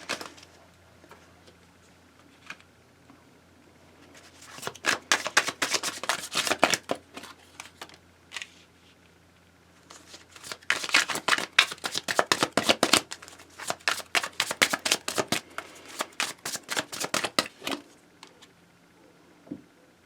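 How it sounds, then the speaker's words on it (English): Rapid riffling of a tarot card deck that is hard to shuffle, repeated in several bursts of crisp flutters with short pauses between, close and fairly loud. "This is a hard deck to shuffle."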